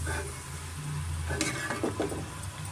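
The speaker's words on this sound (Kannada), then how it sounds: "ಮೀಡಿಯಮ್ ಫ್ಲೇಮಲ್ಲೇ ಚೆನ್ನಾಗಿ ನಾವು ಕಡಲೆಕಾಯಿ ಬೀಜನ ಚೆನ್ನಾಗಿ ನಾವು ಎಣ್ಣೆಯಲ್ಲಿ ಫ್ರೈ ಮಾಡ್ಕೊಬೇಕಾಗುತ್ತೆ" Peanuts frying in oil over a medium flame give a continuous close sizzle, with a few louder stirring scrapes and rattles partway through.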